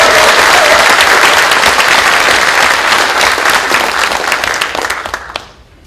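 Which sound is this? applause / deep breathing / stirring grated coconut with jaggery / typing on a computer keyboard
applause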